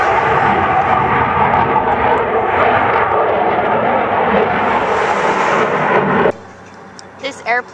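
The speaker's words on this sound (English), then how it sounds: "That is an AC-130 in the app." A loud, roaring AC-130 gunship engine in a video game app drones steadily, then cuts off abruptly, leaving quiet with a few faint chirpy electronic blips.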